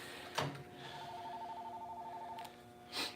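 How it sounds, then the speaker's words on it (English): A telephone ringing indoors, a steady electronic tone sustained for over a second between short clicks and bursts of noise, fairly faint and with no talk over it. "phone's ringing as I walk in the door"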